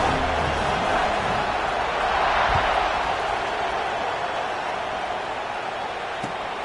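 Stadium crowd in a college football video game, Oregon at Michigan, a steady broad buzzing roar that swells slightly midway, with faint thuds and no clear talk over it.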